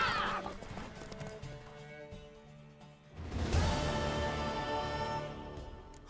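A horse in The Witcher 3 moves with soft clip-clop hoofbeats and a whinny, low in the mix beneath a swelling orchestral game score.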